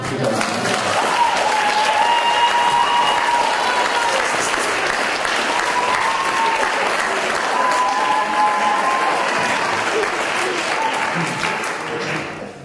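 Sustained applause from wedding guests during a father-of-the-bride speech fills the whole stretch, steady and dense, with some voices and tonal sounds drifting over the clapping.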